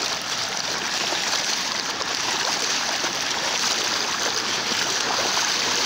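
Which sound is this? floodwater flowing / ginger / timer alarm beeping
floodwater flowing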